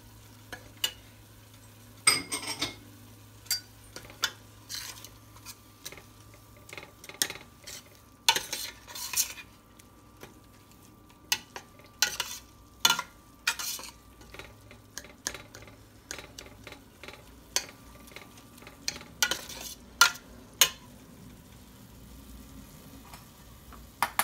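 Matar paneer masala with ginger frying in a pan, stirred with a utensil: a steady low hiss of frying under frequent irregular scraping clicks and taps against the pan, close and moderately loud.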